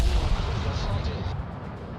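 A Tier 4 British battleship, the Orion, fires HE shells in World of Warships, giving a heavy, booming salvo with deep rumble that rolls off over a couple of seconds and no clear talking.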